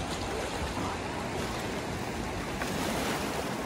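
A rafting boat out on the river, with a broad, continuous rush of flowing water and wind that holds steady and even throughout, moderately loud and heard with no voices.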